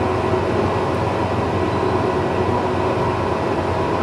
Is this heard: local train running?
yes